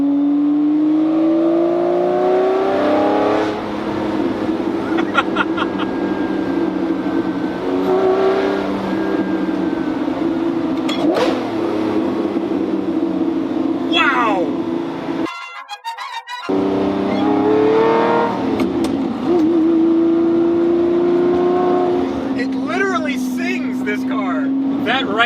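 A Lamborghini accelerates hard in repeated pulls, its engine note rising and falling through gear changes, loud and close, with a brief cutout midway. Driving in rainy conditions.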